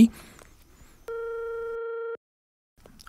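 A telephone call being placed gives one steady ringback tone of about a second, clear and alone against a quiet background.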